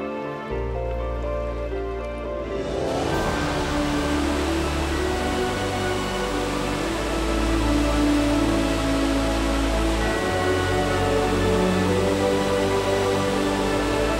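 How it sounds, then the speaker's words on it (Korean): Victoria Falls roars as a dense, continuous wash of falling water, loud and steady throughout with no voices. Tonal music fades in early and continues underneath. "세계에서 가장 장엄한 폭포인 빅토리아 폭포는 자연이 만들어낸 위대한 작품이다"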